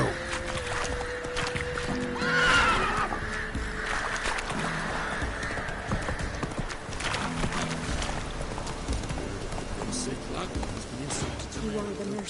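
Roach the horse gallops in The Witcher 3, with quick hoofbeats running under game music and voices.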